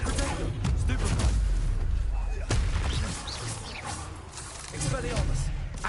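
Magic spells fired in Hogwarts Legacy during a fight with spiders, booming blasts and whooshing impacts in rapid succession, loud and dense, with a voice calling out spell names over the effects.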